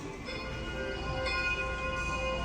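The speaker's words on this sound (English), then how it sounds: "I'm gonna ring the bell, and I'll let you listen how loud it is." A Schindler 3300 machine-room-less traction elevator at a golf venue in Bryan, Texas sounds its bell chime, a steady sustained ringing tone that holds loud and clear through the moment with no talking.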